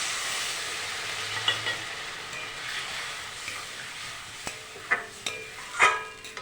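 Egg and potato curry sizzling in a pan right after water goes in, a steady broad hiss with a few sharper crackles and spits toward the end, close and fairly loud, no talking.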